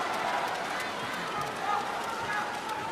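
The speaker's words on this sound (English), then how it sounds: "listen to that crowd response now" A large crowd roars and cheers steadily in a big hall, a dense wash of noise with commentary voices mixed underneath.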